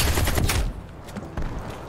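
Rapid, loud shotgun fire from Call of Duty Cold War gameplay, a dense burst of blasts that cuts off abruptly, followed by a quieter stretch with a single sharp report near the end.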